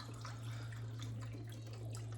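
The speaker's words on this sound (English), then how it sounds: "I do some chicken broth and I just pour it into one of the cans" Chicken broth is poured from a container into a can in a home kitchen: a faint, continuous liquid trickle and splash over a steady low hum, with no speech.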